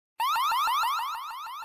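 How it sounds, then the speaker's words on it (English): A Wyze floodlight security camera's 105-decibel siren blares in a loud, rapid rising electronic whoop, sweeping upward about eight times in quick succession after a brief silence, with no talk. "Or let the 105 decibel siren do the talking"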